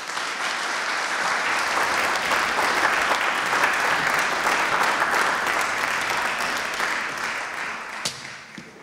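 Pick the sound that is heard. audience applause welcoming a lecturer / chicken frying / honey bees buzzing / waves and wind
audience applause welcoming a lecturer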